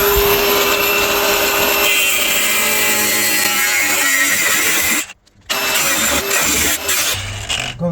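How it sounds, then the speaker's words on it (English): A power tool cutting through a welded shock absorber plate on a Nissan Navara, a loud, steady grinding whine with a brief pause before cutting resumes. "so I'm going to try and cut it off first."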